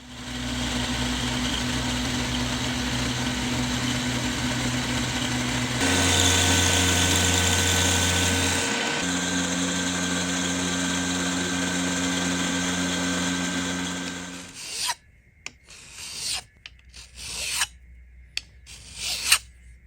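A milling machine takes a facing pass across the exposed surfaces of a part clamped above the vise jaws, a loud steady motor whine and cutting drone that shifts pitch midway, then stops and leaves a few clanks and handling noises.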